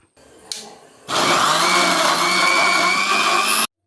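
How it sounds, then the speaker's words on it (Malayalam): A kitchen mixer grinder blending pineapple juice with water; after a quiet start with a small click, the motor surges to a loud, steady whir for a couple of seconds, then cuts off sharply. "മിക്സിയുടെ ഒച്ച കേട്ടപ്പോൾ ആളെത്തിയിട്ടുണ്ട്"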